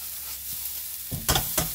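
Ginger hits a hot stir-fry pan with chicken, a quiet background sizzle jumping into a couple of louder hissing bursts near the end, with no talking.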